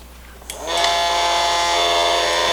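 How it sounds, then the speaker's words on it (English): A small battery-powered toy washing machine for makeup sponges clicks on and starts up into a loud, steady whining motor hum that continues without other sound. "It's making sound. This is a little washing machine."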